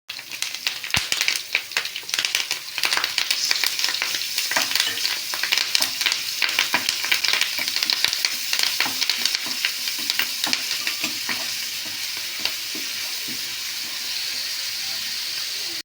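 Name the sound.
ginger garlic paste frying in oil in pan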